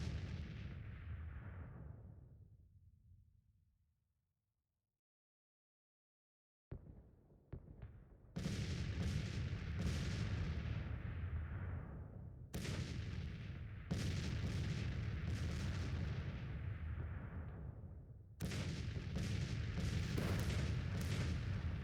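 Civil War musket volleys fired at long range in the strategy game Grand Tactician: The Civil War: a fading rumble, a few seconds of silence, then several sharp, loud crackling volleys, each trailing off before the next.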